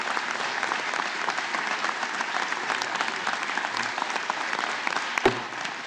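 Members on the Democrat side of a legislative chamber applaud, a sustained wash of many hands clapping with a faint murmur of voices underneath.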